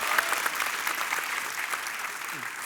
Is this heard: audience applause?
yes